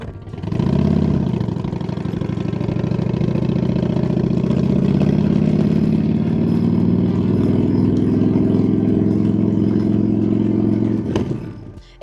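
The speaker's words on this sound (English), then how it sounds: "One mic near the exhaust to capture your engine tone" Motorcycle engine idling and gently revving, captured up close at the exhaust; a loud, steady low rumble runs for about eleven seconds before cutting off abruptly near the end.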